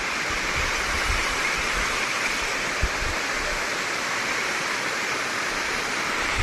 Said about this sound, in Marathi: आता आपण थोडं जवळ धबधब्याच्या, इथून पा पाण्यात किती आवाज आहे